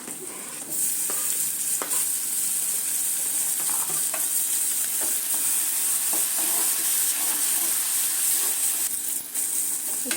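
Small tomato added to well-fried onions and stirred in a pan, a loud continuous sizzle with repeated scraping strokes and clicks of the spatula, near and without speech.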